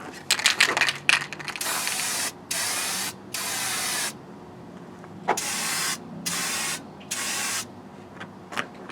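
Aerosol spray paint going onto a cheap Temu Stratocaster-style guitar body, a series of loud close hissing bursts of about a second each separated by short gaps, after some brief clattering at the start, with no talking.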